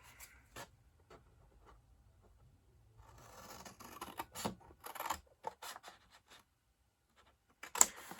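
Small scissors snipping paper for a 4-inch flower cube box, close and quiet, a scattered run of short cuts and rustles after a near-silent start, with a sharper snip near the end.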